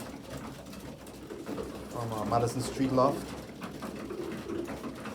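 Racing pigeons coo and shuffle at a home loft while feeding after a three-hour loft fly, soft bird sounds mixed with steady background noise as someone talks over them.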